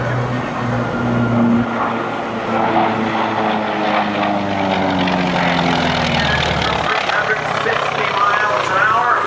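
A jet aircraft roars loudly overhead during an airshow at McGuire Air Force Base, pulling a steep vertical climb, its engine tone sweeping downward as it passes, while an announcer talks over the PA throughout.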